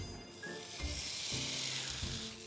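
Steady crackling sizzle of lamb shoulder fat rendering in a hot pan, close and continuous, with a few soft low scrapes or shifts underneath.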